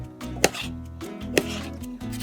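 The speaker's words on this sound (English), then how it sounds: "go ahead and slice your pickles and onions" A knife slicing pickles and onions chops crisply on a cutting board at an irregular pace, close by, with two sharper cuts standing out over a low background hum.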